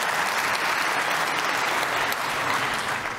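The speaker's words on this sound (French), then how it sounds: "je profite de ces applaudissements" Continuous audience applause at a maritime, aviation and transport conference, a dense, even roar of many hands clapping from a large hall with no pauses.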